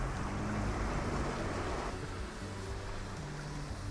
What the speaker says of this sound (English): pushing the car through, keeping it moving nice and steady, helping to move some of that water out of the way